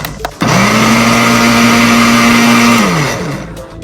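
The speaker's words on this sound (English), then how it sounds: "So now let's pop this into our blender." Blender whirring aloe vera with coconut oil, a loud close motor that starts abruptly, holds a steady high whine for a few seconds, then winds down and stops.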